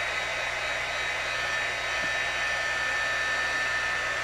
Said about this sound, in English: And while I have my heat tool out, I might pull the one from the first card just to heat it also.